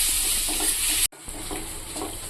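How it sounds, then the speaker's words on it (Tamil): Onions and tomatoes with curry leaves sauté over a medium flame for prawn kuzhambu, giving a steady, loud sizzle with stirring scrapes; a brief drop near the middle, then the frying hiss resumes. "இதெல்லாம் மீடியம் தீயில் நல்லா வதக்கி எடுத்துக்கலாம்"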